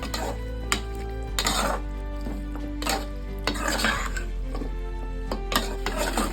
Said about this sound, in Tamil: நல்லா பூண்டோட சேர்ந்து அந்த எண்ணெய் எல்லாம் பிரிஞ்சு வருது. அந்த சவுண்ட்லயே நமக்கு தெரியுது.